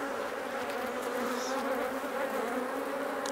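Honey bees swarm around an open hive during a frame inspection, filling the air with a continuous, even buzz and a few nearer passes standing out.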